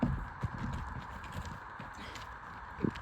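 An eager donkey's hooves clop softly on a horse float ramp during loading, a few scattered irregular steps, close but fairly faint.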